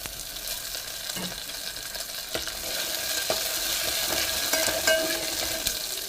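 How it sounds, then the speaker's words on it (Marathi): Coriander leaves frying in hot tempering oil with onion, chilies and spices for kadhi, a loud steady sizzle that swells slightly over time, dotted with small pops and stirring clinks. "तेलातच टाकायची कोथिंबीर."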